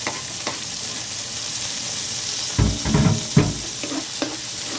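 Garlic and onion sizzle steadily in a hot pan, with a few louder stirring scrapes and bursts near the middle; no one speaks.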